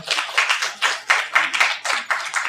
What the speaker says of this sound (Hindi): एक बार जोरदार तालियों से मैं चाहूँगा आज की शुरुआत की जाए